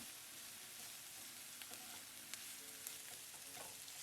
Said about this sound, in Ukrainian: висипаємо до неї моркву та часник і смажимо, поки овочі не стануть м'якими